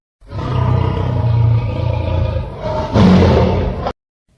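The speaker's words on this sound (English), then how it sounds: "lion," A lion roars in one long, loud, sustained growling call that swells and then cuts off abruptly, close and alone with no other sounds.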